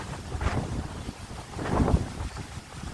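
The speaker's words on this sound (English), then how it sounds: "That's what happened when that wind get real high." Strong wind in the aftermath of Hurricane Helene, heard as gusty buffeting and rumbling against the microphone, swelling in two surges, loud and close.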